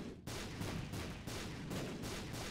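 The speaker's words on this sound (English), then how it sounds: "Can we just chill out with all the explosions for a hot minute?" Repeated explosions in the Binding of Isaac Repentance video game, a dense run of blasts and bursts that keeps going throughout without a break.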